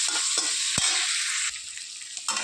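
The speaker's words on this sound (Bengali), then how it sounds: "এবার এখানে এই যে বেছে রাখা চিংড়ি মাছটাও দিয়ে দিলাম, দিয়ে বেশ ভালো করে ভেজে নিতে হবে।" Shelled prawns frying in a pan for a spinach dish, giving a steady close sizzle with brief stirring scrapes and clatters, no voices.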